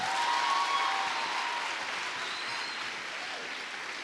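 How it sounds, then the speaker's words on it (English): Steady applause from an audience at an anti-substance abuse event on the eMalahleni campus, a dense crowd of clapping that holds fairly even and eases slightly toward the end, with no voices over it. "Give a resounding round of applause to the provider and the protector of his people."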